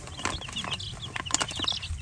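Baby Buff Minorca chicks cheep and cluck in quick, scattered bursts at close range, faint and busy, with soft rustling and scratching beneath and no talking.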